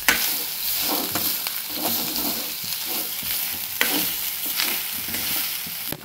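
Grated raw mango fries and crackles as it is stirred in a pan for mango seed chutney, a soft continuous sizzle broken by regular scraping strokes, close and alone.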